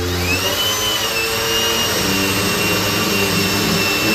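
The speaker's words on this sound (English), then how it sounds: "I'm not running my drill as fast as it'll go, just fast enough to make the drill bit work." A power drill at moderate speed bores metal out of a broken bolt, giving a loud, sustained whine with a strong, even hum underneath and no speech.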